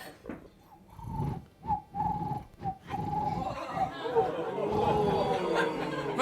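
A person imitates a generic bird call with a series of short whistled chirps, then a looser warbling run, over a background of audience murmur and chatter.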